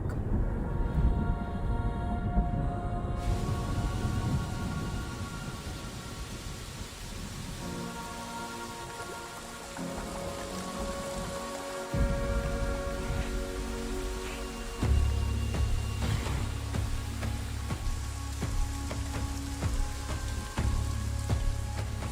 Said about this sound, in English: the rains broke.